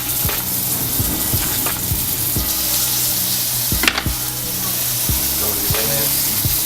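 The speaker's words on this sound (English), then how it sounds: "So I throw them on the frying pan like that." Plantain pieces sizzle and fry steadily in a frying pan, a continuous close crackle with occasional sharper spits and clinks, while a voice speaks briefly over it.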